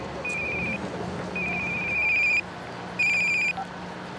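Old-style telephones on a switchboard ring, triggered by soil moisture sensors when plant soil dries out: three bright electronic ring bursts, the last two longer, with a short gap between them, clear over a faint low hum.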